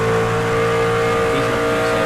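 An electric race truck at Charlotte Motor Speedway runs flat out at full throttle, giving a steady, loud, tonal whine with layered harmonics that holds without letting up.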